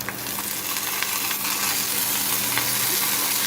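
Mudakathan greens fry with garlic and dried chillies in hot oil, producing a loud, steady, close sizzle that hisses without pause.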